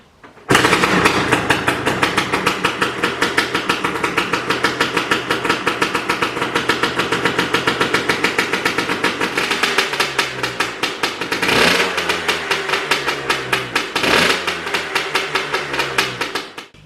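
A freshly rebuilt engine fires up after being pulled apart and keeps running with a loud, steady, rapid chugging idle for about sixteen seconds. Two brief revs swell partway through, and no voices are heard.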